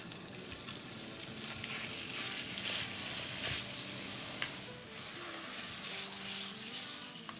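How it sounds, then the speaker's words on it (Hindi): One pound of chicken mince frying in two teaspoons of oil in a pan makes a continuous soft sizzle and crackle, with occasional faint stirring sounds and no voices. "इसे बस हम 2-3 मिनट ही फ्राई करेंगे जब तक कि इसका कलर चेंज ना हो जाए"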